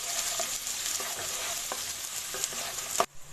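Chopped medium-sized onions fry in a pan toward light golden, giving a steady hiss of sizzling oil with faint stirring scrapes and taps throughout, and no voices.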